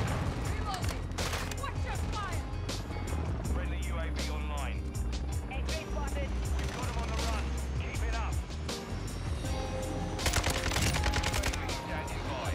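Kastov 762 rifle fire rattles in Modern Warfare 2, with repeated bursts of gunfire, vehicle rumble and game effects throughout, beneath a player talking.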